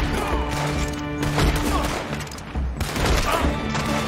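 Dense gunfire rattles through a firefight in the video game Red Dead Redemption 2, overlapping shots and rapid bursts loud and continuous throughout.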